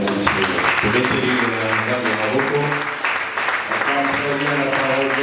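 A church congregation at a worship service claps steadily throughout, the applause mixed with voices and music carrying sustained tones.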